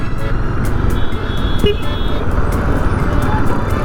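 Busy city road traffic at a Goa-bound stop near Central, with a steady roar of passing cars and buses and a brief horn toot partway through, continuous and fairly loud throughout.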